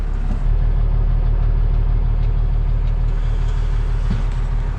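A tractor engine runs at a steady, loud idle-like drone with a low rhythmic throb, close by and unbroken, no talking over it.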